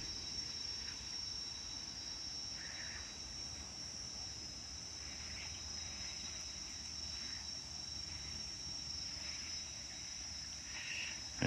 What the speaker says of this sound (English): And you can just hear all the insects and the animals.